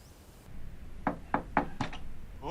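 Four firm knocks on a door follow one another, close and distinct, after a quiet moment in a room, with a voice starting just at the end.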